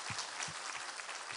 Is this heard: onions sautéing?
no